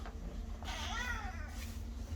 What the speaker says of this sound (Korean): 고양이가 네, 나가고 싶어 해서